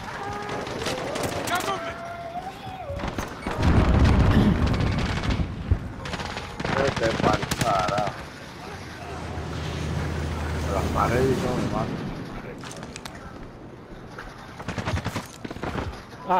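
Bursts of gunfire in a first-person shooter game, with rapid shots and heavier volleys coming in waves over game sound and background noise, while players talk over it in Spanish.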